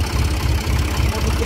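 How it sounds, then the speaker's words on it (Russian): A tractor engine idles close by with a steady low rumble, set outdoors where a eucalyptus tree is being pulled down and sawn, and it runs continuously with no talking. "Вот наш трактор. Трактором будем тянуть дерево."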